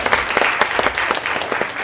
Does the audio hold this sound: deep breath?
no